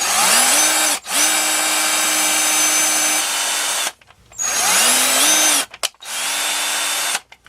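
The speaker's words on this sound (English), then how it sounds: "For that application, you'll want to drill out this portion here, but not this portion here" A power drill bites into a Tamiya Falcon suspension part in three loud bursts, each spinning up with a rising whine and a sustained grinding buzz, separated by short silences.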